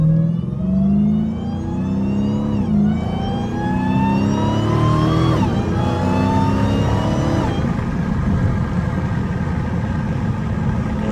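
A Dodge Hellcat cruising in street mode through slow traffic, its engine whine climbing and falling in pitch with each gentle acceleration over a steady engine drone.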